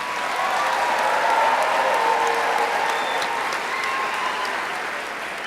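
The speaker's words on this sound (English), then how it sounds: "How about a round of applause for all of our student winners?" Audience at a school district night of recognition applauds its student winners, a dense, steady wash of many hands clapping that holds evenly throughout.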